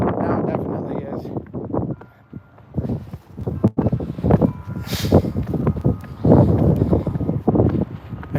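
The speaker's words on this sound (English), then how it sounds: "And yeah, it's windy now." Gusty wind buffets the microphone in uneven bursts while a person talks throughout, the rumble rising and falling.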